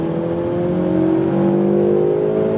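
Ferrari 488 Pista engine on the Exotics Racing track pulls hard with a loud, rising tonal roar heard from inside the car, its pitch climbing smoothly and continuously under acceleration.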